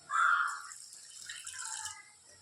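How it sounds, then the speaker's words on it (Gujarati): Water is poured into sugar in a pot while making sweets: a short bright splash at the start, then a softer trickling pour that fades out within about two seconds. "પાણી નાખીશું"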